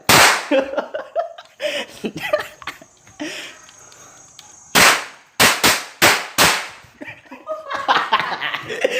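A cheap toy cap gun firing several sharp, loud pops, a cluster of rapid bangs in the middle, with excited voices talking and laughing between shots.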